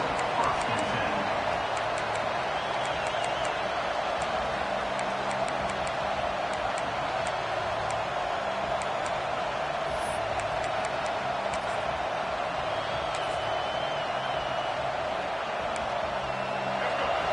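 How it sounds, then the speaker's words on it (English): A college football stadium crowd at Clemson vs Ole Miss roars steadily in a dense, continuous wash of massed voices, loud and unbroken throughout, with a commentator talking over it. "The roar of the crowd trying to fuel this defense to keep them pinned in their own end"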